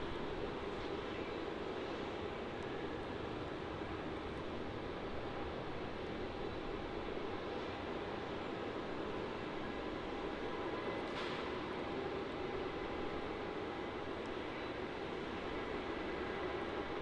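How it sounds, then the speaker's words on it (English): Jetstar Airbus A320-200 lining up and beginning its takeoff roll at Melbourne Airport, a steady broadband jet engine roar heard from a distance that holds evenly throughout with no voices. "JQ504 off to Sydney. A320-200 lining up there on runway 16."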